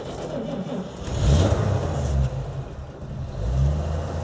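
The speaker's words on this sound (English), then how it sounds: "we'll rev the engine a little bit." A 1948 Chevrolet Fleetmaster Woody Station Wagon engine at operating temperature idles and is revved twice, the note rising and falling close by.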